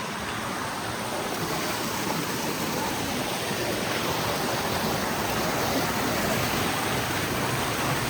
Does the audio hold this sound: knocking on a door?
no